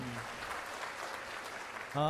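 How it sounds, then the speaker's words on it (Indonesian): An audience at a company presentation in Indonesia claps for itself; a brief, moderate spell of clapping that carries on evenly before a voice cuts in at the end. "Mari berikan tepuk tangan untuk Anda sekalian yang ada di sini."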